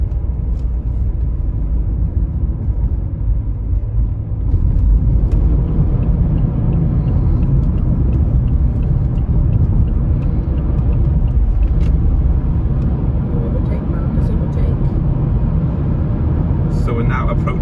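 Steady low road rumble and engine drone from a car heading for the M4 motorway out of South Wales, continuous and fairly loud, swelling slightly partway through, with a voice talking over it.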